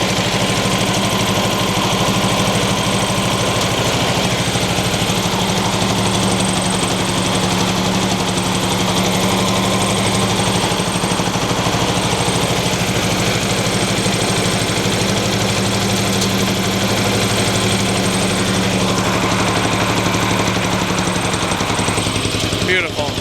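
Old Cushman engine running steadily with the choke off: a loud, continuous close-up idle with a constant low throb and mechanical chatter, unchanging throughout, with voices faintly underneath.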